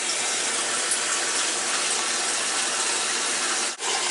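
Water pouring into a leaking Kenmore washer tub as it fills, a loud, steady rushing gush that continues without a break, alone with no voices.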